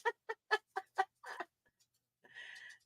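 A bird clucks in a run of six short, evenly spaced clucks, followed after a pause by a longer, higher squawk, fairly faint and with no talk over it.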